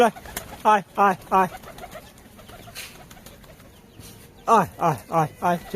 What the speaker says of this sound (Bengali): সব কবুতরকে আমি ছেড়ে দিয়েছি এরা বাইরে বেরিয়েছে খাচ্ছে